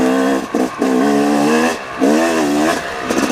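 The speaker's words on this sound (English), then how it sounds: "you can just see the bike just plugging there. Not high up in the RPMs or anything." A 2018 Yamaha YZ250X two-stroke dirt bike engine burbles at low RPM along a trail, close and loud, with short throttle blips rising and falling in pitch between brief dips.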